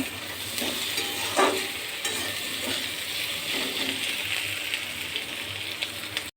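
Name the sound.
onions frying in a pan for chicken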